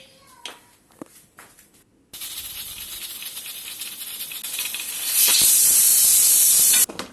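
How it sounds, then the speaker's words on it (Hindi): Pressure cooker hissing steam while spiced meat for kebabs cooks, a few faint clicks and rattles giving way to a sudden loud, steady hiss that grows harsher and more intense near the end before cutting off abruptly. "तो यहाँ मैंने कुकर चला दिया था।"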